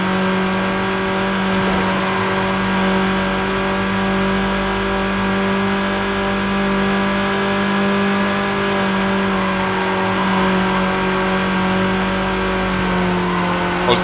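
Tuned car engine in the PS2 racing game Need for Speed Underground, a loud, steady high-revving drone with layered harmonic whine that holds and shifts slightly in pitch throughout, with no talk over it.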